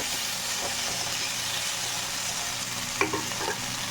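Potatoes fry in a pan with a steady sizzle filling the clip, with a few brief scraping stirs near the end; no voices.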